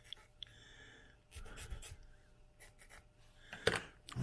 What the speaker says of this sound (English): We're going to try with the file instead and see how that does.